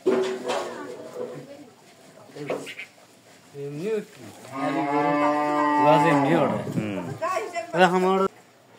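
A cow moos loudly and close at hand in a long, drawn-out, rising call, with shorter bellows before and after it and people talking nearby.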